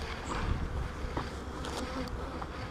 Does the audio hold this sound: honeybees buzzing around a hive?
yes